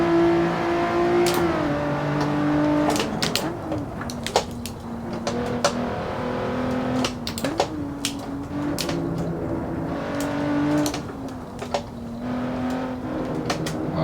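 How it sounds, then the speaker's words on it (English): Race car engine in the racing game Assetto Corsa, revving hard and steadily, with repeated pitch drops at gear shifts and sharp ticks and clunks scattered throughout, close and loud with no talk. "On the throttle, really nice and early, pushing it through the corner."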